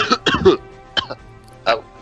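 Several short, harsh coughs in a quick cluster, then two more isolated coughs after brief pauses, close to the microphone with no talking.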